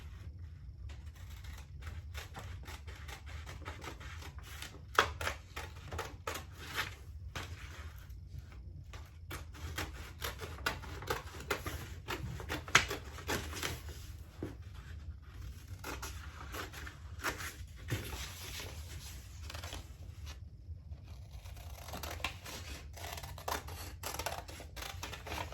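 Scissors or a cutter slicing through fabric or paper while a long-sleeve toddler shirt pattern is cut out: a steady run of dense, scratchy snips and rustles lasting throughout, fairly close, with no talking.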